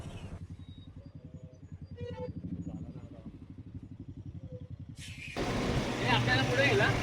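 Steady engine rumble from a group motorcycle ride on a busy highway from Mumbai toward Saptashrungi at night, with traffic and trucks around; a louder, rushing roar swells near the end as heavier traffic passes close, with faint voices in places.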